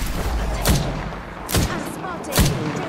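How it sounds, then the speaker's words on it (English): Gunfire in the shooter game Apex Legends: three loud, booming shots spaced roughly a second apart over a continuous rumbling backdrop of battle noise. "Contact with hostile. Opening fire. They've spotted me. I'm taking shots."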